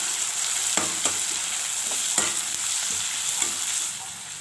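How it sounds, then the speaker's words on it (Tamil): Tomato, green chili and curry leaves sauté in hot oil for a squid gravy, a steady close sizzle broken by a few sharp scrapes of a stirring spoon against the pan. "அது கூடவே கொஞ்சமாக கருவேப்பிலை, அதையும் சேர்த்து நல்லா வதக்கணும்."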